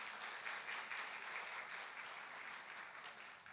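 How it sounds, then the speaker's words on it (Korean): Faint, distant audience applause after a lecture, a soft continuous wash of clapping that stays level and then eases slightly, with no voices. "우리 너무나 좋은 강의 해주신 우리 사모님께 다시 한번 박수 한번 해드리겠습니다."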